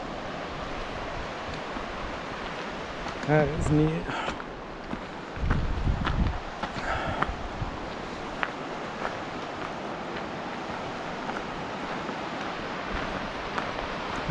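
The Baker River rushes along below a trail near Mt Shuksan in northern Washington, a continuous broadband roar of flowing water, with a few brief spoken remarks and footsteps over it.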